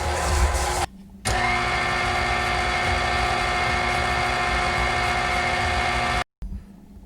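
A KitchenAid stand mixer runs with a steady motor whine, loud and close, starting after a short pause and stopping abruptly near the end, mixing pound cake batter.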